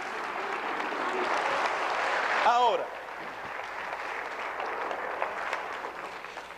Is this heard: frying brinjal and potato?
no